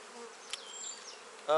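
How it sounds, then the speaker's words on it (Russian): Honeybees buzz around an open hive frame of brood and honey during spring colony inspection, a faint steady drone with a few louder bees passing close by, ending in a sudden noisy burst. "Пчелки выходят, и пчел в семье прибавляется."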